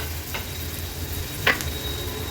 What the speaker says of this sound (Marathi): हळद आणि मसाला कांद्यामध्ये छान परतून घेऊया